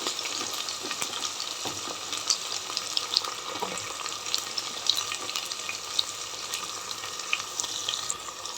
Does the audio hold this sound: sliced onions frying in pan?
yes